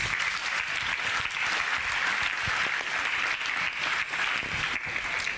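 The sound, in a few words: church congregation clapping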